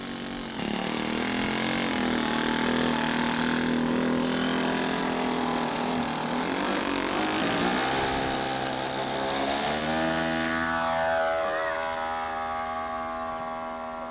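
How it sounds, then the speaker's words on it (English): A small model airplane engine flying outdoors in February 1988, a steady buzzing drone with a shifting pitch as the plane moves about overhead, sustained and fairly loud for the whole stretch with no talk. "Kind of sound like an airplane,"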